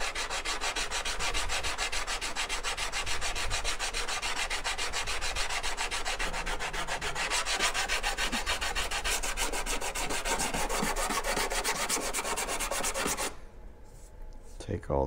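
Steady sanding strokes on the side of a Harbor Freight hand plane, taking out manufacturing scratches: a continuous close rasping rub that runs unbroken for about thirteen seconds before stopping abruptly near the end.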